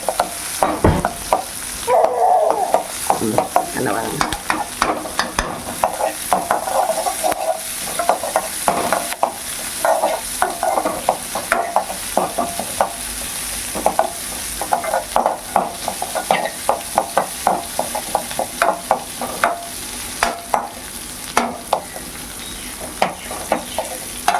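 Small onions (shallots) sizzle steadily in a hot pan while a utensil scrapes and taps through them in frequent, irregular strokes, close and continuous with no talking.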